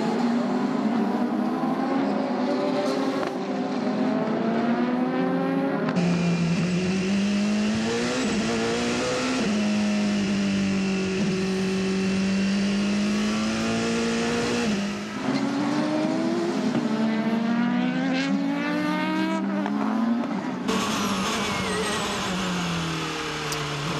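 Prototype race cars at the 2017 WEC 6 Hours of Nurburgring howl past one after another, loud engine notes rising and falling as they shift gears and approach, near and continuous with no talk over them.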